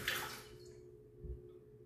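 Liquor poured from a bottle spout during a bartending demonstration, a soft splashing trickle strongest at the start that fades into a quiet low hum, with a faint second splash about a second later.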